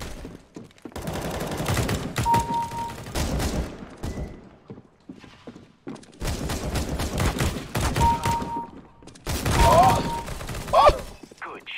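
Gunfire in the video game CS:GO comes in several loud bursts of shots, separated by short pauses, with game effects mixed in.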